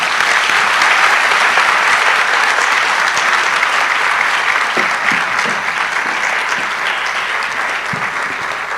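An audience at a medical and dental practitioners' induction ceremony gives dense, sustained applause, steady and loud at first and tapering slightly toward the end.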